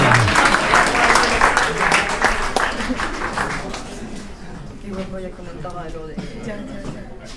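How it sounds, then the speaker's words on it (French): Applause breaks out for a cousin named Brenda after a French athlete's European record at the Olympics, strong clapping at first that thins and fades into crowd chatter and nearby talking. "Brenda, on peut l'applaudir s'il vous plaît."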